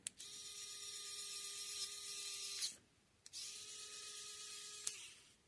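A Dspiae Orbit mini cordless drill/screwdriver runs in two steady high-pitched whining bursts of about two and a half seconds each, separated by a short silent pause, close and loud with no talk.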